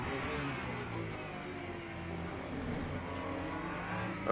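A Peugeot race car engine in the Le Mans Ultimate game during a VMS Pro Series race at Silverstone, a steady, loud, high-pitched drone that holds throughout, with no voices.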